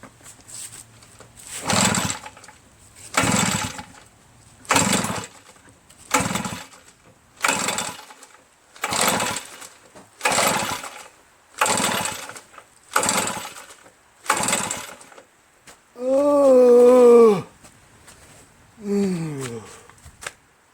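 A Redmax EBZ8050 commercial backpack leaf blower that will not start is pull-started over and over, giving about ten loud, evenly spaced rasping cord pulls, then a brief sputtering engine catch that dies, then one more pull.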